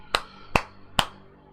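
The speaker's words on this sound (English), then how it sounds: "He's waiting for some kind of victory round of applause to go out." Three sharp, evenly spaced claps ring out in quick succession in the video game World of Tanks, crisp and close, with a faint hum underneath.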